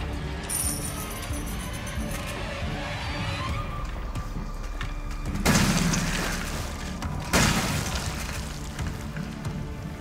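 Two loud shotgun blasts from the video game Resident Evil 7 burst out a couple of seconds apart over a low, murky game ambience.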